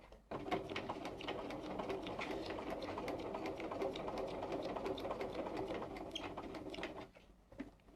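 Bernina 440 sewing machine stitching curves at a steady fast whirr, a close continuous mechanical hum with rapid needle ticking that stops abruptly near the end.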